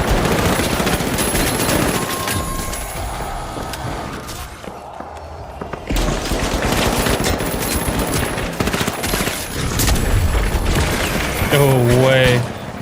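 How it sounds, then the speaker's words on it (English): Dense video game battle noise with a glitch grenade and sustained gunfire: rapid, loud automatic bursts, thuds and explosions running throughout, with a voice talking briefly near the end. "I'm using glitch grenade."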